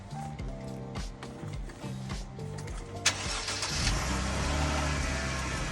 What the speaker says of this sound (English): put the key back into the ignition and start up the car